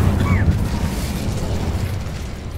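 Incendio fire spell being cast in Hogwarts Legacy, a short, loud whooshing burst of flame with a deep rumbling boom that fades over a couple of seconds.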